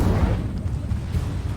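Incendio fire spell cast in the Hogwarts Legacy video game: a dense, roaring burst of flame with heavy low rumble, loud and continuous across the short moment.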